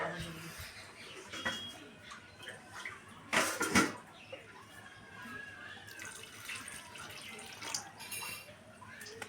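Water pours into a bowl to soak peeled palm fruit for a traditional palm kheer, a moderate continuous splashing with a louder gush midway and faint background voices.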